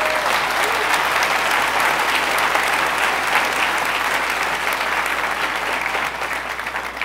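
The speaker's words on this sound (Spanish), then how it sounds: "¿Por qué no le damos un aplauso a todas esas mujeres valientes?" A church congregation applauds at a Sunday service, a dense, steady wash of many hands clapping at full strength for several seconds, easing slightly toward the end.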